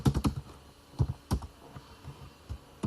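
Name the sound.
typing a command on a computer keyboard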